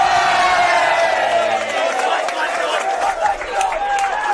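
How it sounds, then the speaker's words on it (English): Spectators at a National Premier League soccer match between South Hobart and Kingborough Lions roar and shout in a loud, sustained swell of crowd noise. "we'll let you hear what the crowd has to say about that one"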